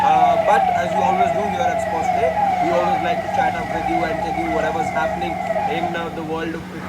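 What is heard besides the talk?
emergency vehicle sirens blaring outdoors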